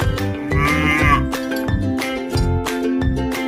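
A cow moos on a farm while music with a steady beat plays throughout. A long lowing call in the middle rises above the backing track.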